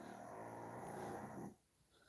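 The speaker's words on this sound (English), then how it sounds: "That's the pug snoring like a truck driver" A pug snores with a deep, rumbling, congested drone held for over a second, then breaks off into quiet before a faint snort at the end.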